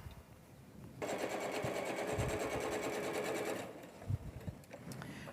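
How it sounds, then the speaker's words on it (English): A sewing machine stitches pieced quilt rows together in one steady, fast run lasting a few seconds, then stops, leaving a few light handling knocks at the end. "All right, Ms. Erica, we have sewn our rows together"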